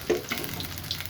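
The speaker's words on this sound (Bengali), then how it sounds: "তেল ছিটছে, কিন্তু সাবধানে পড়বেন" Hot oil spatters and sizzles around taro pakoras frying in a pan, a soft steady hiss with a few faint pops, quiet and short.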